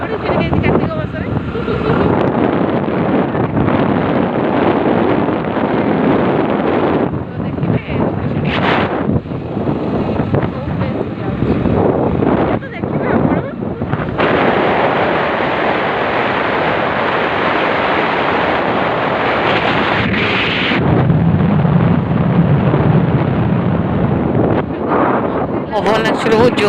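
Strong wind buffets the microphone outdoors on an outing to a temple, a loud, continuous roar that surges and dips over about half a minute, with voices partly buried beneath it.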